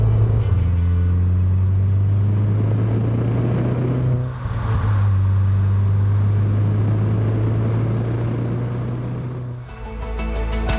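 Audi TT engine with turbos whistling, a steady loud rumbling idle and drone with a soft rise around the middle and a brief revving burst near the end, no talk.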